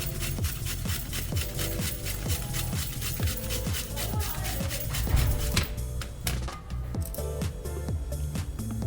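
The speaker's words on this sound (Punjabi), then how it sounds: "ਮੂਲੀ ਨੂੰ ਅਸੀਂ ਕ੍ਰੈਸ਼ ਕਰ ਲਵਾਂਗੇ" Radish being crushed for a radish and tomato chutney, heard as a steady run of rhythmic crunching, grinding strokes close by, repeating about every half second with a faint tonal background.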